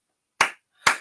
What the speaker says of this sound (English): I'm going to stick with the clapping for a bit